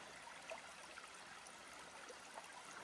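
A small creek in the Gold Coast hinterland flows with a faint, continuous trickle and soft babble, quiet and steady throughout with no voices.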